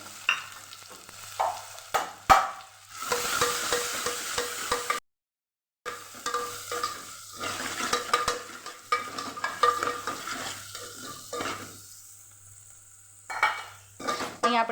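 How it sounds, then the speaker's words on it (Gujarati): Steady frying sizzle of onions sautéing in oil, with occasional scraping of a spoon stirring in a pan, briefly pausing partway through, with no voices. "હવે ડુંગળી ઉમેરી દઈશું અને સરસ સાંકળી લેવાનું છે આપણે"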